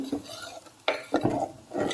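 A spoon scraping and clinking in a pot of okra tamarind curry, with a few distinct stirring strokes that sound close and moderately loud.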